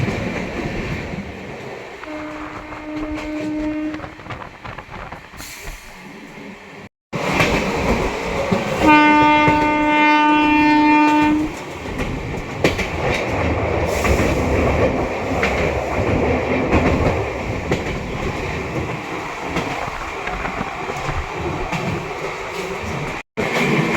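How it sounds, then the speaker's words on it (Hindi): The Anand Vihar–Patliputra Special, routed via Chhapra and Ballia, runs through Panki Dham station without stopping. Two loud horn blasts sound over the heavy rumble and rhythmic clatter of passing coaches, close by and sustained. "ये है आनंद विहार पाटलिपुत्र स्पेशल, जो छपरा बलिया के रास्ते जाती है।"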